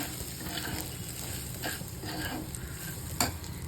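Roasted semolina (rava) is stirred into a sizzling pan for upma, the close scraping strokes of the spoon repeating over a constant frying hiss, with one sharper clink near the end.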